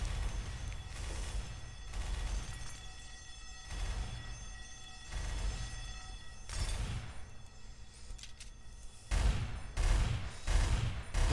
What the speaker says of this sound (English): This really is the worst gun ever.